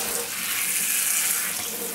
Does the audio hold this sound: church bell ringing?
no